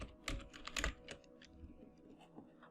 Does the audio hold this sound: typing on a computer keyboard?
yes